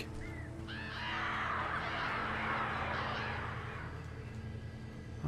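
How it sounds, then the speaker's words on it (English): Several crows caw harshly in the Alan Wake video game, a dense flock of overlapping calls swelling loud in the middle before thinning out, with a low steady rumble underneath. "Oh, god damn it. The crows."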